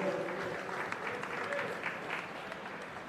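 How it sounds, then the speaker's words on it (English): An audience applauds at a national swimming championship finals session, a steady, moderately distant roar of clapping echoing through the pool hall, with a voice faintly talking underneath. "Give them a round of applause."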